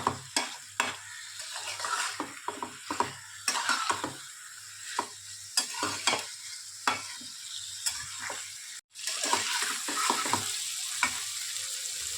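Paneer cubes are stirred through hot oil in a pan for paneer dilkhush, with a spoon scraping in repeated short strokes over a soft, continuous sizzle, close up and without speech.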